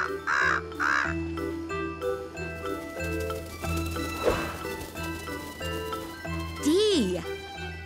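A crow caws in a narrated Halloween alphabet story for kids, with two short caws near the start and another call later over a tinkling musical background.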